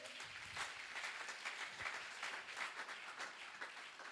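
A church congregation at a Sunday service claps steadily in acclaim to God, a continuous patter of many hands, fairly faint and even throughout with no voices on top.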